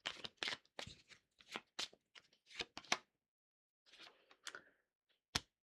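Tarot cards are shuffled close by in quiet, a series of brisk papery riffles and soft slaps in irregular bursts, pausing briefly before a final sharp snap.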